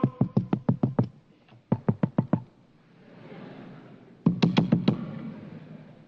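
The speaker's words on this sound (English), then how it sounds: "knocked on the door." Knuckles rapping on a mansion door in quick bursts: a run of about seven sharp knocks, another burst of five after a pause, then a final cluster of loud raps, close and crisp with soft ambient murmur between.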